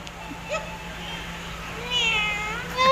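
A person voices a cat's meow, a drawn-out mewing imitation at a lively event at Helen's Kitchen in Buhangin, Davao City, heard close and fairly clear with crowd noise around.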